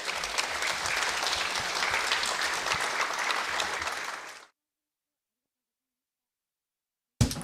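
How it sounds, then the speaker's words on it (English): An audience at a conference on sacred mountains and Mount Fuji applauds steadily for about four seconds, a dense, even clapping that stops abruptly into silence before a brief burst returns at the very end. "could we have another round of hearty applause for Dr. Mechtild Rössler, please?"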